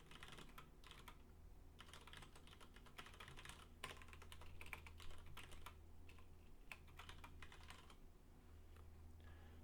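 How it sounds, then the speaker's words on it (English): Steady typing on a computer keyboard, with rapid clustered keystrokes and brief pauses over a low constant hum, close and continuous without speech. "It's not time for typing."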